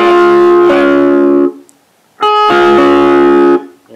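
Electric guitar plays the chord notes in reverse order, two sustained strummed passages separated by a short gap of near silence, loud and clean.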